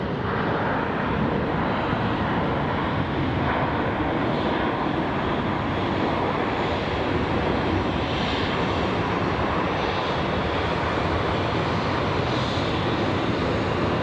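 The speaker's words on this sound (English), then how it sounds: "That was a nice landing." Airliner landing at Sky Harbor International Airport, a loud continuous engine roar with broadband rumble that holds steady for the whole stretch with no talking.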